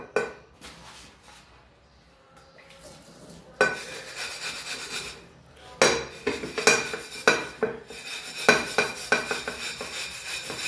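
A scrubber grinds over a kadhai to lift fried-on stains, heard as scraping strokes and metallic clinks that begin sparse and turn into loud, rhythmic bursts in the second half.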